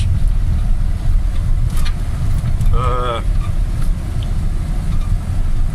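Car driving on a rough roadside verge in Ukraine, a loud constant low rumble of engine and tires with bumpy road noise throughout.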